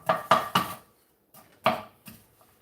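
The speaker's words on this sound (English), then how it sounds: "I think that's all the chopping that's inside this entire recipe is just those onions" Onions being chopped with a knife on a cutting board in a home kitchen, five crisp close knocks in two quick clusters separated by a short pause.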